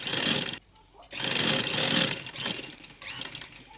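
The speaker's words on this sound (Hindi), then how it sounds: "चलते हैं मशीन की तरफ और सिलाई लगाते हैं" A sewing machine stitches trouser panels in loud bursts, a fast whirring run that stops briefly and restarts for a longer stretch of stitching, close by.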